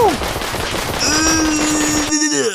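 Rapid gunfire from the sandbox video game Melon Playground, a dense, loud burst of repeated shots with electronic ringing tones layered on top, stopping abruptly near the end.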